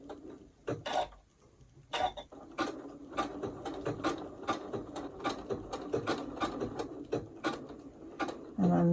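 A domestic sewing machine stitches an appliqué block in short bursts, pausing every few stitches as the fabric is turned, with clicking, ratcheting mechanical pulses close by and no talk.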